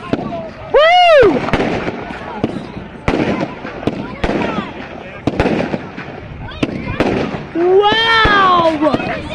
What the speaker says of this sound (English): here is the fireworks!